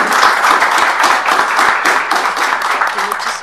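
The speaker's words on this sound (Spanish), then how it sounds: "Un aplauso para el doctor." Applause from a seated conference audience honouring a doctor after his presentation on engineering for energy sustainability, a dense steady patter of many hands clapping at close range, loud and continuous throughout, with no voices over it.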